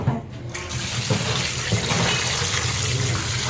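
Tap water runs steadily from a kitchen faucet as fruit is washed under it, a close, continuous splashing hiss that fills the whole stretch with no talk over it.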